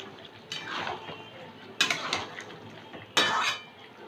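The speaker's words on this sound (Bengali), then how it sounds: "গরম মশলাটা একটু মিশিয়ে দেব।" Garam masala being stirred into a simmering curry of knol-khol (kohlrabi) in a pot, three separate bursts of utensil scraping and clinking against the metal, close and moderately loud, with quiet pauses between.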